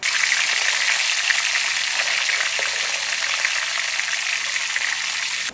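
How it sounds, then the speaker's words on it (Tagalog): Dried fish (daing) frying in hot cooking oil, a steady, dense crackling sizzle that holds evenly throughout with no voices over it. "Ayan, prituhin natin ulit guys, yung ating daing, ayan. Ayan, mainit na yung ating mantika guys."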